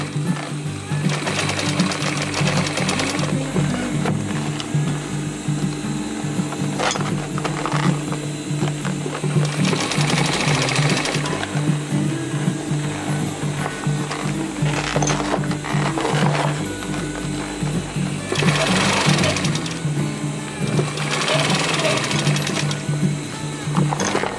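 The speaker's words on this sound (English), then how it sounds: "Now continue sewing the top side." A sewing machine stitches a roll-up bag, whirring steadily and continuously at close range for the whole stretch, with slight swells in intensity and no talking.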